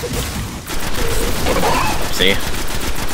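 Rapid gunfire in the video game Destiny rattles continuously during a fight, loud and dense, with a player speaking briefly over it.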